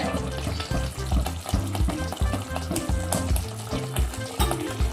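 A frying pan of spices, turmeric, coriander-cumin powder, salt and kasuri methi being stirred for a mutton gravy, with steady sizzling and busy scraping and clinking of the spoon throughout, close and fairly loud, no voices.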